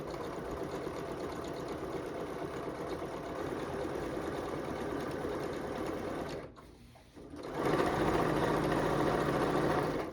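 A sewing machine stitches a Christmas wrapping paper print quilt with a steady, continuous close whir, briefly stopping for about a second before resuming slightly louder.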